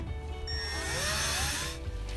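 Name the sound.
power tool driving self-tapping screws to mount iWave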